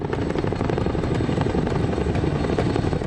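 Military resupply helicopter flying at a remote combat outpost, a steady loud rotor thump and engine roar that fills the whole stretch without pause.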